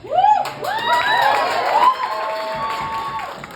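A crowd cheers loudly with high-pitched whoops and shouts, some applause mixed in, sustained throughout.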